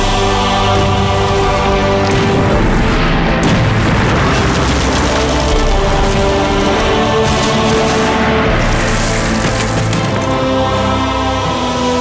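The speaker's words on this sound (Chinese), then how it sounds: "又打中了，继续开炮。" Artillery cannon fire and exploding shells in a wartime battle scene, heavy booms and cracks within a loud, dense, continuous roar throughout.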